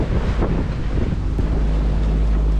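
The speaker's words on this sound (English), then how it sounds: "sea state is still a bit wavy, but we're gonna notice it soon because we're still in port and these are the rollers coming in" Sea rollers come into port around a sailboat off the Dutch coast under a constant heavy roar of wind buffeting the microphone, with low rumbling water beneath and no speech.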